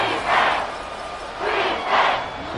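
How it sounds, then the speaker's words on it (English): A football stadium crowd cheering and roaring in loud swelling waves, two big surges of massed voices from a large audience at an NFL game. "This crowd turning up the decibel level."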